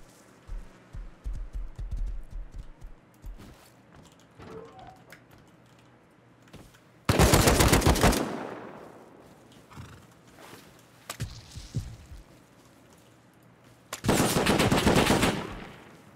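AK rifle fire in a video game raid comes in two loud, sharp bursts of rapid shots, each trailing off into a short echo, with quieter game noises in between and no speech.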